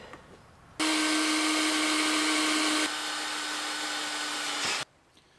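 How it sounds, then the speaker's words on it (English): A power drill whines steadily for about four seconds, loud and close, with its pitch shifting partway through before it stops abruptly. "time to drill some holes"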